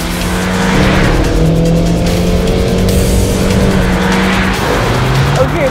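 A 2018 Honda CR-V's 1.6-litre diesel engine revving and pulling hard, loud and close, with rising and falling pitch as it accelerates through gears; tires hiss on the road.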